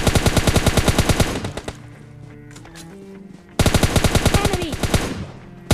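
Rapid automatic gunfire in the mobile battle game PUBG Mobile Lite crackles loudly in two fast bursts of evenly spaced shots, separated by a quieter stretch of in-game sounds.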